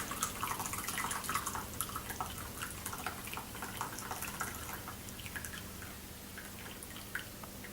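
A heated canned drink pours into a mug, a steady close trickle and gurgle of liquid running on for several seconds with small splashy drips, no talking.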